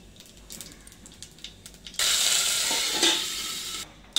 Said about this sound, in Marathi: तांदूळ टाकते आता